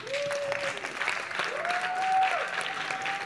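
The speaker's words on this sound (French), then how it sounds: "On acclame le Seigneur." A church congregation applauds together in steady, sustained clapping throughout, with a few voices rising over the noise.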